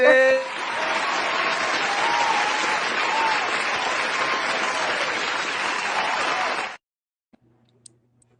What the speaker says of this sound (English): let me get COP a round of applause, boy